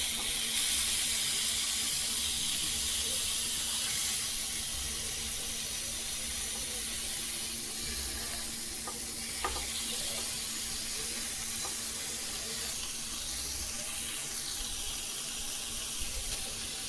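Cireng grilling in an oiled pan produce a constant soft sizzling hiss with no breaks, heard close and fairly quiet.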